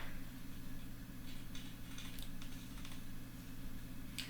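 Typing on a computer keyboard, a few faint, light key taps scattered over a loud steady electrical hum, with no speech.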